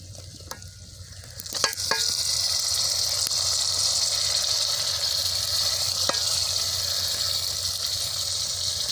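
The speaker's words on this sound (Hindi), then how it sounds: "अब मसाले को अच्छी तरह भून लेंगे" Tomatoes, chilies, cumin and spices fry in a hot pan with a steady, loud sizzle that fills the whole stretch, marked by a few sharp clicks of utensils near the start.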